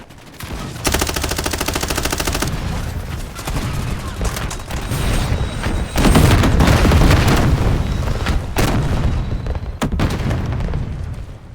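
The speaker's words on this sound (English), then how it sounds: "Friendly artillery pushing out." Friendly artillery barrage in a Call of Duty Modern Warfare multiplayer match: rapid automatic gunfire, then sustained heavy booms and rumbling explosions with more bursts of fire, loud and dense throughout.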